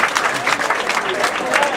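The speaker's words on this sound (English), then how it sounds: "Give yourself a round of applause" Workshop audience applauding briefly, a dense patter of many hands clapping at moderate level with a voice over it.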